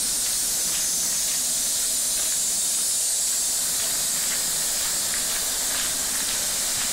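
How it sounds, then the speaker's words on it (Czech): Loud, continuous hiss of escaping steam from a steam locomotive arriving at a station, broad and steady throughout, with faint rumbling underneath. "parní vlak přijel na nádraží."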